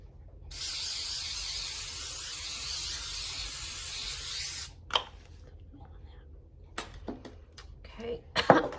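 A steady aerosol hiss of cooking spray coated onto a pan for about four seconds, close and fairly loud, followed by quieter clatter and small handling sounds.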